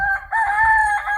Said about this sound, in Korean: 우리 시집닭 참 너무 울어서 시끄럽네요